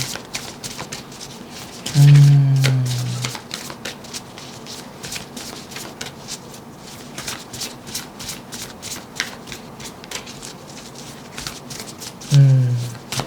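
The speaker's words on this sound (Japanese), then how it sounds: "最後にもう一枚オラクルカードを引いてみたいと思います" Oracle cards riffle and slap in two short bursts of shuffling, a clear rapid flutter near 2 seconds and again briefly near 12, separated by a long stretch of soft card handling and faint rustles.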